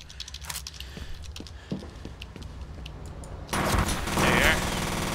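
Enemy gunfire in the F.E.A.R. first-person shooter, with sharp scattered shots and then a loud dense burst of automatic fire near the end, heard with no talk.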